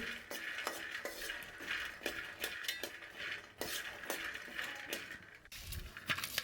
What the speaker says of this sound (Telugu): ఇందుకోసం నేను రెండు గుప్పట్ల వరకు పల్లీలను తీసుకొని వేయించుకుంటున్నాను